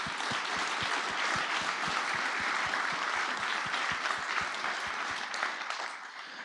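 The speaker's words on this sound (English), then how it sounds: "So let's just give everybody a round of applause to all the volunteers." Crowd applause at a security conference's opening session for its volunteers, a sustained wash of many hands clapping with a steady beat of one nearby clapper that thins out toward the end; no speech over it.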